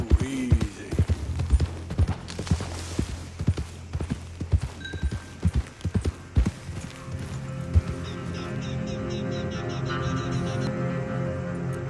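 Horse hooves clip-clop in Red Dead Redemption 2, a steady run of sharp close knocks over a low rumble of wheels or movement, with louder irregular hits through the first eight seconds before a smoother continuous bed takes over.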